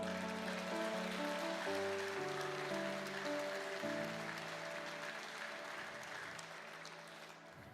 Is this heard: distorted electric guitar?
no